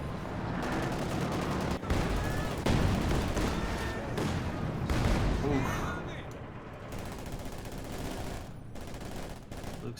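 Game gunfire from Company of Heroes 2, dense bursts of machine-gun and rifle fire with booming impacts, loud and continuous under a commentator's voice throughout.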